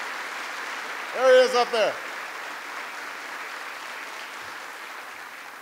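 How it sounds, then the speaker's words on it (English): A crowd applauds a congressman at a Veterans Day gathering in South Korea, steady broadband clapping throughout, with a voice briefly speaking over it near the start. "give him a big round of applause"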